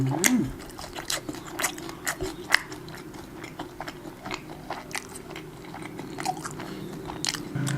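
Crunchy Korean fried chicken bitten and chewed close up, a string of sharp crisp crunches in an irregular rhythm, loud and intimate, with faint background sounds between bites.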